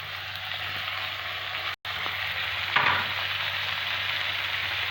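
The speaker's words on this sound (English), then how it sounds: "See, now this is lightly brown, so I am going to add the tomatoes." Tomatoes tossed into spices frying in a pan for tomato besan sabzi, a steady close sizzle with a brief cutout followed by a louder crackling burst as they land, then continued frying, with no talk.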